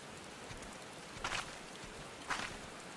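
Rain falls in the video game Final Fantasy XIV as a soft, steady patter in the background. Two brief, slightly louder bursts of rustling stand out, and nobody speaks.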